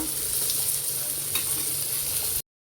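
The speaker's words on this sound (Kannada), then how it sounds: "ಇವಾಗ ಇಲ್ಲಿ ತವಾ ಫ್ರೈ ಕೂಡ ರೆಡಿ ಆಗ್ತಾ ಇದೆ" Fish tawa fry sizzles steadily on a hot pan, a dense continuous frying hiss that stays close and even for about two and a half seconds, then stops abruptly with no talking.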